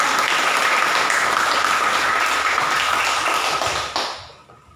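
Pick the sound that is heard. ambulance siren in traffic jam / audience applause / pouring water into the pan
audience applause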